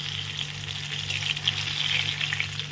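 Pieces of banana flower fry in hot oil, giving a steady, close sizzle and crackle that holds evenly throughout with no voices.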